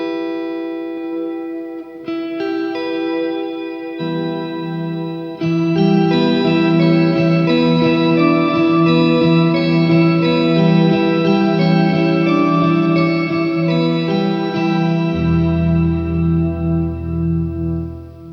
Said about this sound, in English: I'll add the Pico pod for some cathedral organ